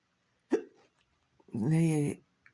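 A single sharp hiccup bursts out from a person giving a spoken talk, followed by a short quiet gap, then a sustained voiced stretch of nearby speech.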